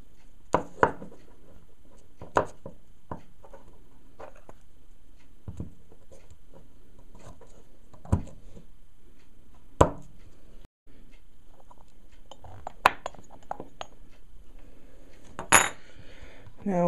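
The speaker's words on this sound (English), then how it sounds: "First we're going to do is take these four screws off." Four screws are removed one by one from an Aisan vacuum part, giving sparse, sharp metallic clicks and small clinks spread at irregular intervals over a quiet background.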